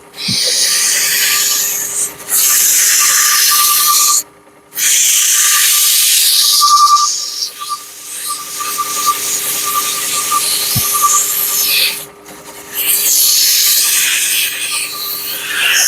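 A loud, steady hissing scrape of a skew chisel shaving wood on a spinning lathe runs almost nonstop, broken by a few brief pauses and faint clicks.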